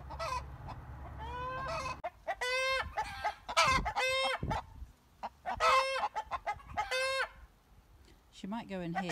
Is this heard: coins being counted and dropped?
no